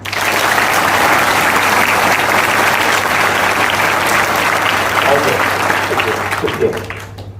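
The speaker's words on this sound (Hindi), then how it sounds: "बहुत जोर से एक बार ताली बजा दीजिए।" Loud, sustained clapping from a large audience, dense and even for about six seconds before thinning out near the end, with some voices mixed in.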